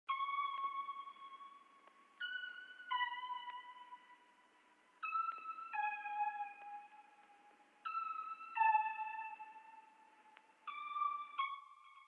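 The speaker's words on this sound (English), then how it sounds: "it is this shiny shimmers, yet again, just using it as an accent" Shiny shimmers synth sample from the FL Studio Chill Lofi Flex expansion, sounding as sparse bell-like tones: a few clean, ringing notes that enter every couple of seconds and decay slowly, alone without talk.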